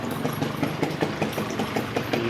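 A motorbike engine idles steadily at close range with a low, even throb and faint rhythmic pulsing while the bike is parked on a street in Malaysia.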